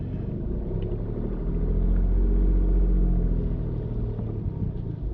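A car reverses slowly into a gap between two parked cars during driving test practice, its engine a steady low rumble at close range, the idle swelling slightly midway before settling back.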